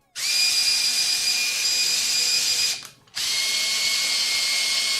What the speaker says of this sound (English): I'm actually gonna pre-drill